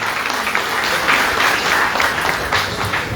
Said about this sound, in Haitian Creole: On applaudit pour une fois.